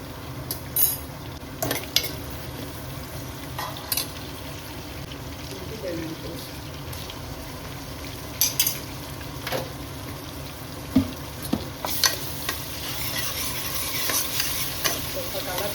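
Onions and masala spices sizzle steadily in a pan while a utensil stirs them, with scattered scrapes and clinks against the metal and faint talk in the background.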